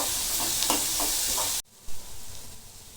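Onion, curry leaves and green chili sautéing in a pan, a steady close sizzle with soft stirring scrapes that cuts off abruptly partway through, followed by quieter faint kitchen noise.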